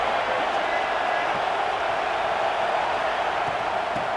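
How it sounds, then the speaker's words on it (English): A home crowd roars in a steady, dense wash at a college football video game between South Carolina and Alabama, a commentator talking over the noise. "this home crowd is fired up and ready to make a difference today"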